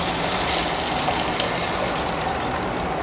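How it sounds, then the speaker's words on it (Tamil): Tamarind solution pours into a hot tempered clay pan for sundakkai puli kuzhambu, a continuous close gushing splash with steady sizzle-like hiss throughout, no talking. "இப்போது கரைச்ச இந்த கரைசலை நம்ம சட்டியில் ஊற்றிடலாம்"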